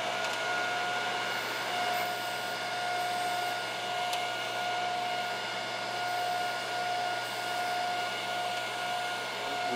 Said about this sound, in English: We will go over here to these deburring machines and we'll remove this burr.